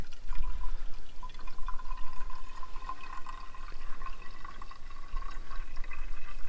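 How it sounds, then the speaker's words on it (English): Water from melted ice is poured back into the radiator of a Suzuki Samurai on a mountain trail, a soft steady trickle and drip running continuously at low volume close by. "So now we'll dump our water back in."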